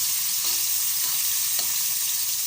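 Garlic fries and is stirred in a pan while cooking sinigang na bangus, a steady broadband sizzle with a few soft utensil scrapes, close and continuous with no talk.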